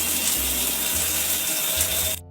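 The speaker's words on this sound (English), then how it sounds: "She puts her head directly under the faucet and lets the warm water pour straight over her face" Warm water pours steadily from a shower faucet over a rescue cat's head and face, a dense continuous splashing hiss, close and even, cutting off abruptly at the end.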